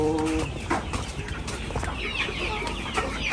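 Hens and a rooster in a backyard coop cluck and call close by in a busy, overlapping chorus, one bird giving a brief higher squawk, with no people talking.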